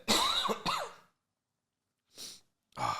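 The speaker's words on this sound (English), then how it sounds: "Sorry, I've got to cough, mate." Someone coughs up close, a couple of harsh rough bursts, then a pause before two more shorter coughs.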